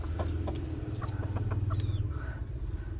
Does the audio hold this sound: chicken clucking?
yes